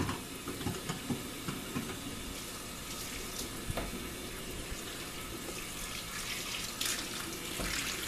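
Tap water runs steadily over brown wool yarn being rinsed of soap in a sink, a continuous close hiss of flowing water with small splashes and no talk.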